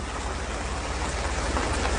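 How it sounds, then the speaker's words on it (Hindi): A continuous loud wash of rain falls, steady and broadband, with a low rumbling undertone like a vehicle or train idling nearby. "जरा बारिश हो रही है।"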